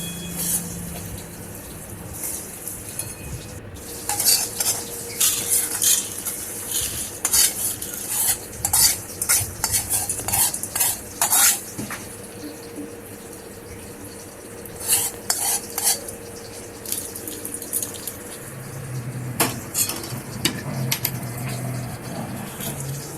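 Ghee milk residue and puffed rice fry together in a pan, a soft steady sizzle under frequent metallic scraping and clinking from a spoon stirring in bursts, close by with no talking.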